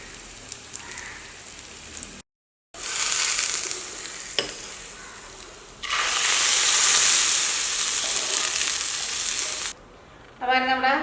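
Chutney being tempered in hot oil, without mustard seeds or dried red chillies, gives a loud, steady sizzle and crackle that surges in bursts with brief pauses between them.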